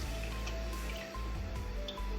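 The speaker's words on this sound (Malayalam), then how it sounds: "അതിന് പകരം നമ്മൾ തേങ്ങാപ്പാൽ ഒഴിക്കും" Rich, creamy coconut milk is poured over rice in the kitchen, a close, soft, wet stream with small splashy drips running steadily for a couple of seconds, with no voices.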